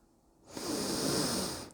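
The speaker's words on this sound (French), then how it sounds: "On inspire par le nez en fermant les poings." A long, steady breath drawn in through the nose as part of a relaxation exercise for managing emotions. After a quiet start it rises into a broad, airy hiss lasting over a second, close and fairly soft.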